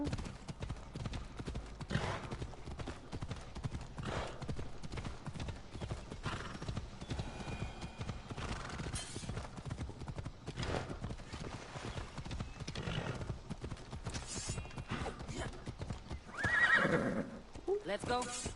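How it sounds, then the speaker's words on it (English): A horse gallops in Assassin's Creed Odyssey on PS4, with steady rapid hoofbeats and a neigh late on, heard under someone talking over the gameplay. "I can't help it if my horsey runs over things, people."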